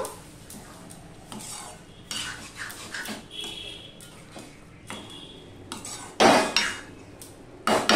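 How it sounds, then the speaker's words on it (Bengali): Spoon stirring shredded cabbage with fresh coriander leaves in a metal pan, repeated scraping strokes and a few louder clanks against the pan, close with no voices. "দিয়ে সম্পূর্ণ আমি মিশিয়ে নেব, ভালো করে মিশিয়ে নেব।"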